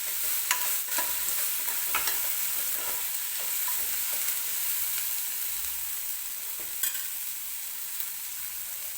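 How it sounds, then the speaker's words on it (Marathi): Tomatoes roasting in a pan until soft for a Karnataka-style breakfast, sizzling steadily while a utensil stirs and scrapes in repeated strokes, close and moderate in level, with no voices. "टोमॅटो हलकासा मऊ होईपर्यंत आपण भाजून घेतोय।"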